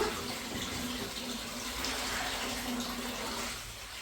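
Fish washed under running water at a sink, a steady faint splash and trickle of water, continuous and fairly close with no voices.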